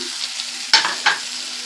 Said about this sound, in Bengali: আলু আর বড়ি দিয়ে মশলাটাকে ভালো করে কষিয়ে হয়ে গেছে